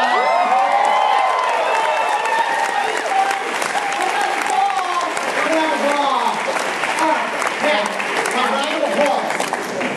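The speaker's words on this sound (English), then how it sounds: "My round of applause." Fans at a Star Trek Beyond fan event applaud loudly and steadily for the full stretch, with cheers and whoops rising out of the dense clapping crowd.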